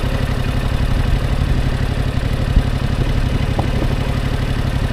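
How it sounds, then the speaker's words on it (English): A motorcycle engine runs steadily with a low, throbbing pulse as the clutch is let out, holding an even, moderately loud note without a clear rise in pitch. "So I'm letting out the clutch. If I let it out a little further, I'm going faster, right?"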